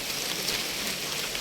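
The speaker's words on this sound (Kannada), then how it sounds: "ಅಷ್ಟು ಮಳೆ ಅಂದರೆ ಮಳೆ" Heavy monsoon rain falls steadily in a forest during a trek near Kudremukh, a dense, even patter of drops on leaves and ground with no voices.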